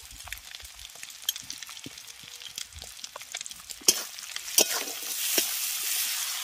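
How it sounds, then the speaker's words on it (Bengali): Cumin, dried chilli paste and mustard paste fry in fish oil, a soft sizzle with scattered ticks, swelling into a brighter, louder hiss with spatula scrapes toward the end; no voices. "এবার মশলাটাকে ভালো করে আগে একটু ভেজে নেব বা কষিয়ে নেব।"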